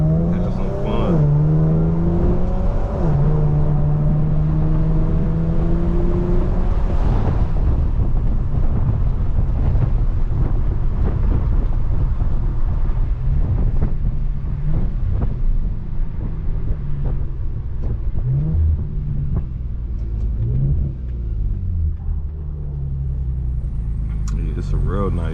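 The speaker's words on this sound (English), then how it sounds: "car sound good, yo. It don't sound raspy or nothing. It sounds just right." A steady, loud engine and exhaust drone from an Infiniti G37 driving on back roads, with wind buffeting the microphone throughout and someone talking over the rumble.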